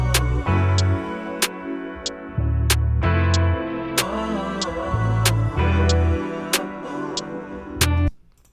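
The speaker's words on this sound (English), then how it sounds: "This time I put the snare on beats 2 and beat 4." A programmed beat with a sharp sampled snare cracking on beats two and four and lighter hi-hat ticks between, over a heavy bass and chordal loop, steady and loud before cutting off near the end.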